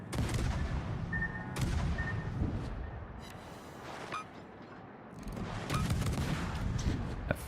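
Warship guns in World of Warships firing in heavy booming salvos, with repeated blasts and rumbling explosions layered densely across several seconds, loud and continuous.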